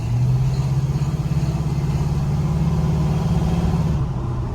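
A 1968 Chevrolet C10 pickup's engine runs steady and loud close by, a low sustained drone with a slight rise in pitch, as if revving gently, holding for about four seconds before easing off.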